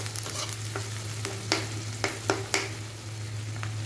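Pangas fish frying with ginger and garlic in a pan, a steady close sizzle broken by a few sharp scrapes and clinks of stirring, with no voices.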